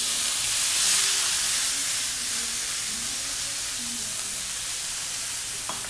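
Chopped onion hits hot rendered guanciale fat in a pan, giving a steady, bright sizzle that holds evenly throughout, close and fairly loud, with no talking.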